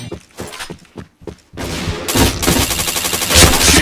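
Rapid gunfire from a shooter video game, several short sharp shots at first and then a dense, loud burst of continuous firing and blasts, close and without speech.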